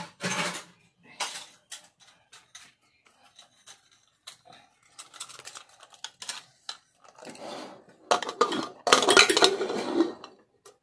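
A pressure cooker holding rice, dal, oil and salt is closed and set on the stove, giving a run of close metallic clanks, clicks and rattles in irregular bursts with pauses between.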